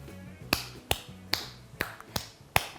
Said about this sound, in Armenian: Դե մի հատ ծափահարի։